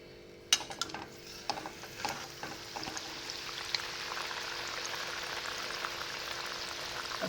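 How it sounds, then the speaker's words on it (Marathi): Gulab jamun frying in oil over a medium flame: a few sharp clinks and taps as more balls go in, then a soft, steady bubbling sizzle, quiet and close. "आणि आता आपण दुसरे गुलाबजाम तेलात टाकून घेऊया"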